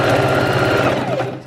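Sewing machine running in one steady continuous burst, stitching scrunchies back and forth in a chain without cutting them apart, loud and close, stopping abruptly at the end.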